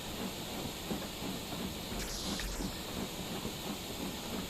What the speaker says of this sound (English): There's another steam locomotive somewhere around me, I think.